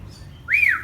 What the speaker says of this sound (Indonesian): Ini cucak rawa Harry Hybrid Farm.